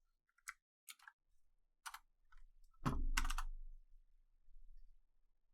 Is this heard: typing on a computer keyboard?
yes